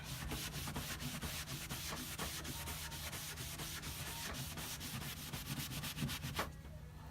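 A rag buffs wax across a painted wooden headboard in steady back-and-forth rubbing strokes, close and continuous, with a low hum running underneath and a brief pause near the end.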